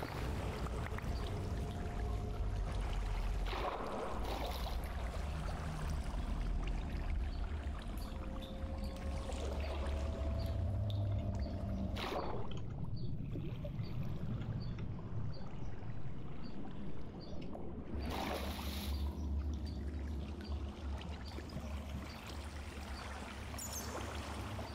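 Flowing water in Minecraft, a steady rushing, trickling stream that continues throughout, soft and unbroken, with a few brief sharper splashy accents.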